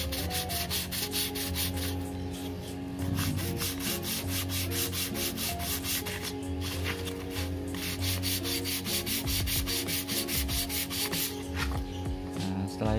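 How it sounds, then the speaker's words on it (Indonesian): Sandpaper of 400 grit rubbed by hand across a part while setting up a Yamaha RX-King membrane, a steady close rasping scrape in continuous rhythmic strokes, alone with no talk. "ini saya pakai amplas ukuran 400 ya, jadi agak kasar ini"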